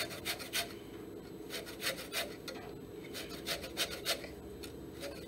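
Lemon and orange zest is grated at close range, a series of quick, faint scraping rasps in short irregular bursts against a quiet background.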